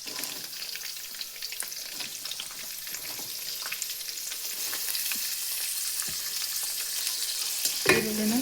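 Chopped onions and green chilies frying in a pan give a steady, close sizzle that hisses continuously, with occasional small crackles and a brief clatter near the end.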